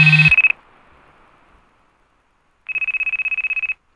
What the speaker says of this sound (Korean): 벨이 울리고